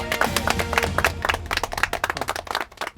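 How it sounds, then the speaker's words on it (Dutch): Close, lively clapping from a small audience at a Limburg ribbon award ceremony, distinct individual claps that thin out toward the end, with faint voices beneath. "Applaus dames en heren."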